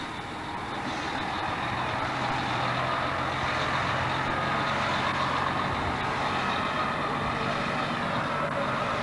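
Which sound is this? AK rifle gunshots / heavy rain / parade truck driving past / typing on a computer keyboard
parade truck driving past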